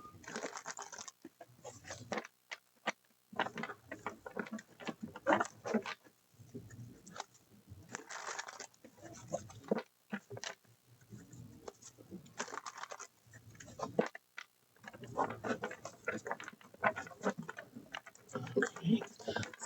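Stiff tarot cards riffle and patter in quick bursts as they are shuffled, separated by short pauses, close by and fairly soft.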